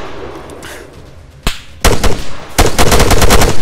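Rifle shots and bursts of machine gun fire ring out in an ARMA 3 infantry battle on a village approach, a single crack followed by rapid, loud, dense volleys with no talking.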